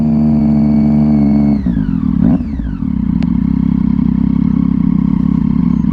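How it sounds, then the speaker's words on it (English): A 2011 Triumph Street Triple 675R motorcycle engine runs loud and close, holding a steady high rev before dropping sharply as the rider shifts and settles into a lower, rumbling drone. "Hope you enjoyed listening to the fun little Triumph."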